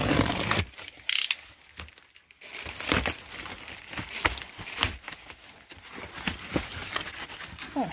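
Styrofoam packing crinkles and squeaks as it is handled during the unboxing of a pallet of unknown items, in irregular bursts of rubbing and crunching at close range, with brief pauses between handfuls.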